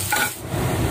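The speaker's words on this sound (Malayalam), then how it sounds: "ബാക്കി ഞാൻ സവാള വഴക്കുകയാണ് ചെയ്യുന്നത്." Onions fry in a pan for chicken biryani; a quick scrape of stirring at the start gives way to a close, steady sizzle of hot oil.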